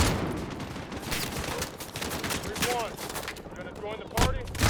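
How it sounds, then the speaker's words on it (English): Rifle gunfire in the Call of Duty: Modern Warfare video game, rapid bursts of shots amid dense in-game battle noise, with faint chirping tones and a sharp blast near the end. "I've got a rifle, we might as well use it."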